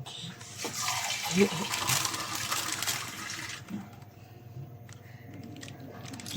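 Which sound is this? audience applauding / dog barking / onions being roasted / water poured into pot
water poured into pot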